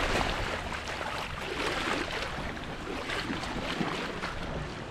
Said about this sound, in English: Weirdly choppy water coming from behind me all of a sudden.